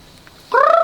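A single short, loud, warbling call from a fowl bursts out after a quiet moment, close and rattling, resembling a gobble more than clucking.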